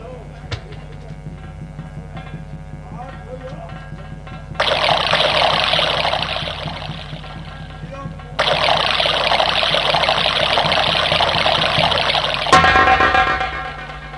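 Water poured in a steady stream into cupped hands for drinking, a continuous splashing trickle that starts and stops in two long bursts, loud and close over a quiet background.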